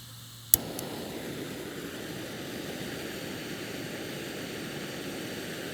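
An MSR camping stove's gas burner lighting with a sharp click and pop, then settling into a steady, close roaring hiss of flame.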